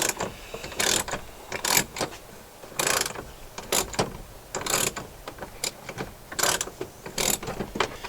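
A ratchet wrench clicks in repeated quick bursts while undoing nuts on a 2006 Jeep Wrangler TJ heater box, close and crisp with short pauses between strokes.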